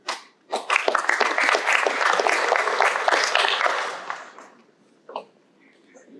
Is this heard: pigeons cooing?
no